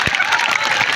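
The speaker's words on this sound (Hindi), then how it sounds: "बजाओ तालियां, कमजोर है, बार बार तालियों कहनी पड़ रही है।" Seminar audience applauding during a road safety talk, a dense, steady wash of clapping filling the whole second at close range.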